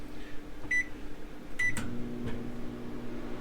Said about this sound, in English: I'm going to check the microwave.